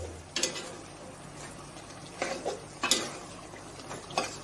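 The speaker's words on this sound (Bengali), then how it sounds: "মাঝে মধ্যে একটু লাড়া দিতে হবে" Meat and potatoes being browned together in a cooking pot are stirred now and then. A handful of short scraping strokes, about five, stand out against a quiet background.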